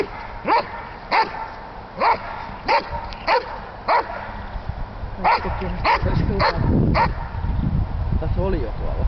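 A dog at an outdoor group training session gives repeated sharp barks and yips at a steady pace, then whimpers and whines more continuously, with people talking in the background throughout.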